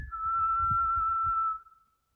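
A single sustained whistled note held steady for about a second and a half, then trailing off, with soft low thumps underneath.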